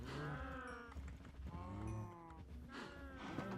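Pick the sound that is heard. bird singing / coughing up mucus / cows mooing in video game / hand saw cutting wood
cows mooing in video game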